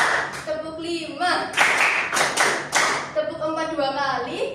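A class in a micro-teaching practice lesson claps in unison, a short burst of sharp, rhythmic hand claps set between a teacher's spoken instructions before and after.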